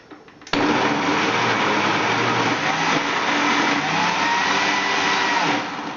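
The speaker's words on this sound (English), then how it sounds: "every so often when you put the apple into the blender, you get air pockets" An electric blender starts abruptly and whirs loudly and steadily as it purées stewed apple into a paste for fruit leather, then winds down slightly near the end.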